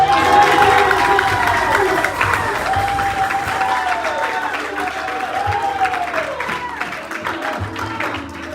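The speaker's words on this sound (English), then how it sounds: "If you believe Jesus, would you clap your hands?" A church congregation claps and cheers loudly at a midweek service, steady dense applause with shouts rising over it, continuing for several seconds while voices call out over the crowd.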